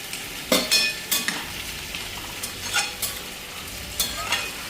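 Fried fish being stirred into a potato curry in a pan, quiet sizzling under several distinct clinks and scrapes of a spatula against the pan, irregular and close.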